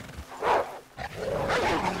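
Two snarling roars from the Alabaster Cougar, a legendary big cat in Red Dead Redemption 2, the first short and loud, the second longer and rumbling, close by.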